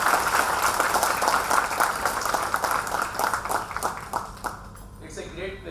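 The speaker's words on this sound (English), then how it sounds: "Please welcome him with a big round of applause." An orientation programme audience gives a round of applause to welcome the chief guest, a broad wash of clapping that thins toward the end as a voice begins to speak.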